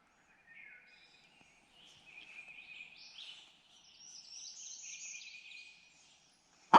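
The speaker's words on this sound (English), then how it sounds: "I'm starting to hear some of the little birds chirp behind me." Small birds chirp and twitter faintly in the distance in quiet South Carolina Piedmont woods at dawn, with a sudden loud thump right at the end.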